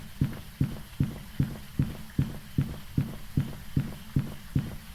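Rapid footsteps of the fast twin ghost in Phasmophobia, a dozen thudding steps at a quick even pace over a constant muffled background drone.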